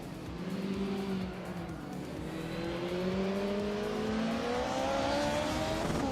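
Older Mercedes and BMW race cars lapping a tight-cornered circuit in a racing video game, several engines revving and shifting pitch as they pass, loud and close throughout.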